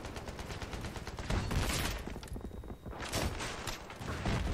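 A magic missile spell firing in a wizard video game, with dense crackling, bursting impacts rushing one after another in loud, continuous volleys and a short lull partway through, no talk.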